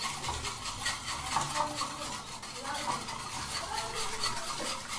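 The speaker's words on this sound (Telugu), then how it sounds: "ఇలా బాగా బీట్ చేసుకోవాలి." Eggs and sugar beaten in a bowl with a steady, rapid whisking and scraping rhythm that continues at close range for the whole stretch.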